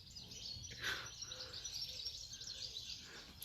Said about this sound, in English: so we've got some galah cockatoos